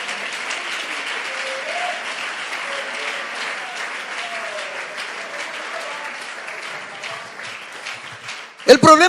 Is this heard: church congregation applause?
yes